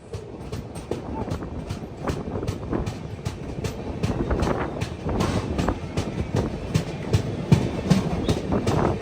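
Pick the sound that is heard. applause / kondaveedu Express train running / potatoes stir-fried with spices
kondaveedu Express train running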